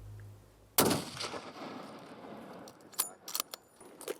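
A single loud rifle shot cracks out during a West Texas aoudad hunt and rolls off into a long fading echo. Fainter clicks and knocks follow, like the action being worked.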